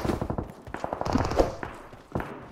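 Rapid bursts of shotgun fire in a mobile battle game played on an iPad Pro 2020, several sharp close shots in quick succession followed by a lone later blast, with no talk over them.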